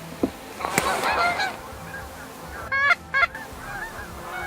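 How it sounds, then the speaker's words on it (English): Geese in a field honk in a few scattered calls, with two sharp, nasal honks standing out near the end over an open outdoor background. "We may get every goose from the area to be sitting in this field"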